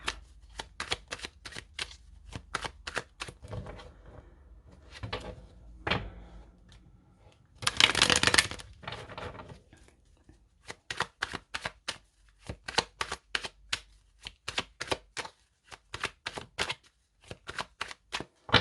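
Oracle cards being shuffled for a tarot-style reading, a run of crisp riffling bursts followed by a longer dense rustle, then quick rhythmic snapping taps as the deck is worked by hand, close and alone.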